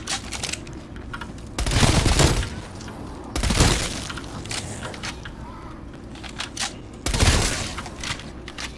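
Heavy gun blasts with recoil in Call of Duty Zombies, three loud, close bursts spaced a couple of seconds apart over a steady background of game noise.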